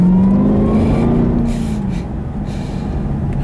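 A 2012 Cadillac CTS-V with 595 horsepower being driven, its engine holding a loud, steady drone that climbs and then eases in pitch, heard without any talking.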